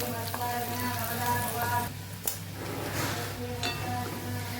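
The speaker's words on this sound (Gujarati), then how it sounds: "અહીંયા આપણું સરસ ડુંગળી સતરાઈ ગઈ છે" Onions sautéing in a pan for a ridge gourd and potato curry, a steady hissing sizzle with a low hum beneath and occasional faint clinks, continuous and fairly close.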